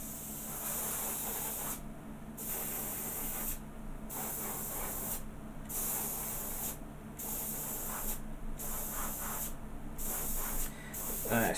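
An airbrush sprays paint onto a Dr Who Airfix model kit in a steady close hiss, cut by short regular pauses roughly every one and a half seconds, with quiet background noise between bursts.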